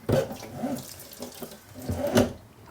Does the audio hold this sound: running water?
yes